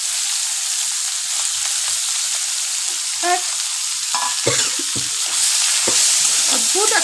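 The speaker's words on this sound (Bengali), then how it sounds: "এবার আমি যে মাছটা করে রেখেছি এর মধ্যে এই মাছগুলোকে আমি তুলে দেব।" Shrimp frying in hot oil in a pan, with a steady sizzle throughout and intermittent scraping and stirring clinks of a utensil; a brief word of speech is heard.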